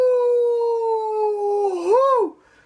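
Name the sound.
pug dog howling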